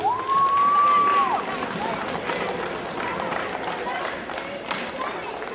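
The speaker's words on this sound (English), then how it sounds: "let's give them a big round of applause" A crowd claps and cheers in a steady wash of applause, with a short high whistle ringing out at the very start.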